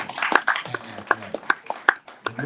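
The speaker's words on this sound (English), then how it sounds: "Let's hear a round of applause for that." A small audience claps at a live boxing tribute event, a loose run of distinct, moderately loud hand claps with uneven rhythm, short pauses between bursts, and low voices murmuring underneath.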